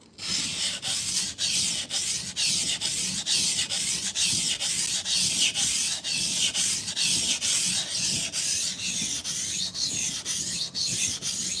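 A knife blade draws steadily back and forth across a whetstone, giving a continuous gritty rasp with regular stroke pulses, close and loud throughout with no talking.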